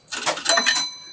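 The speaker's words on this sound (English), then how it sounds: "And this is the sound of a nickel." A payphone's coin signal for a deposited nickel, a single bright bell-like ding ringing out with a sustained metallic tone that slowly fades.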